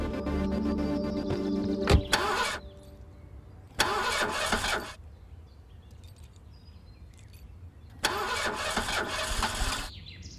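A car engine that has been tampered with cranks and fails to start in three separate bursts of around a second each, loud and close, with quieter stretches in between and no talking.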